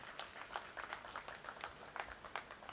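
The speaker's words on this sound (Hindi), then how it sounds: "जोरदार तालियां" Audience applause at an association felicitation ceremony, a dense patter of many hands clapping, steady and fairly faint with a distant, roomy quality.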